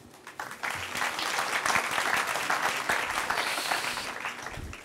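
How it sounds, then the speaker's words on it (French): Steady audience applause for panel participants at a round-table conference session, dense clapping swelling and holding for several seconds before tapering slightly. "On peut encore vous applaudir."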